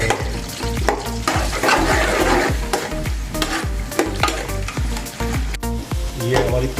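Two large sliced onions frying in hot oil for a tori (ridge gourd) curry, a loud, steady sizzle broken by repeated scraping and clattering stirs of a spoon against the pan, close up with no talking.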